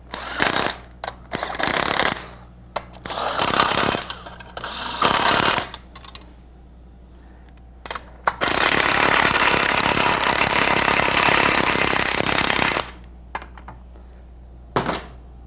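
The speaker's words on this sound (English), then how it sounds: "I'm using my electric tools and my air tools" Electric and air tools run on drive train components in short bursts of whirring and ratcheting, followed by one long sustained run of power-tool noise and a final brief burst, close and loud.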